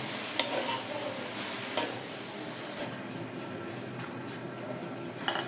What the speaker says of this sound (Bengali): এখন আমি শাকটাকে সুন্দর করে বাগার দিয়ে নিব